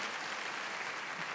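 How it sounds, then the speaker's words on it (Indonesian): Church congregation clapping together at an Easter service, a steady, dense wash of applause that stays loud and even throughout, with no talking over it. "Yang percaya kita tepuk tangan yang paling meriah bagi Yesus Kristus Tuhan kita."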